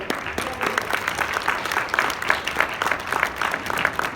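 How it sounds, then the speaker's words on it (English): Audience applause at an airport art walk dedication ceremony, a loud, steady burst of clapping from a gathered crowd lasting several seconds. "I just want to give a round of applause to my team who made this all possible"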